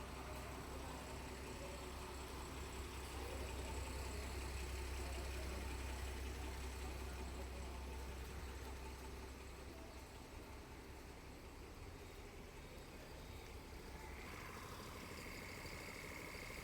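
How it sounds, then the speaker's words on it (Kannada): A KSRTC bus idles at Udupi bus stand, a low steady diesel rumble close by with faint background activity and no voices. "ಮಂಗಳೂರು ಟು ಕೊಪ್ಪಳ ಗಾಡಿ ಬಂದಿತ್ತು ನೋಡ್ರಲ್ಲಿ"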